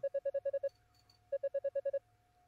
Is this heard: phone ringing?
yes